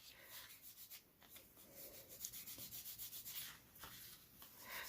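Gilded leaf flakes are rubbed into small holes in a handmade card, giving a soft, continuous dry scratching and brushing close by, in steady rhythmic strokes with brief pauses.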